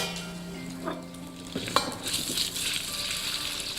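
Shrimp stir-frying in a hot pan in a restaurant kitchen, giving a steady close sizzle with occasional scraping and clinks as they are pushed around.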